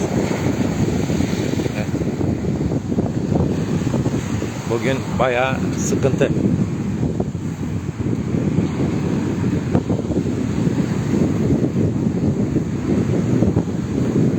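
Strong coastal wind roars steadily into the microphone at Ayancık, with sea waves surging beneath it, loud and unbroken throughout; someone speaks briefly partway through.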